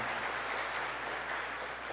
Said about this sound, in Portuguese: Vamos aplaudir uma vez mais o Pedro.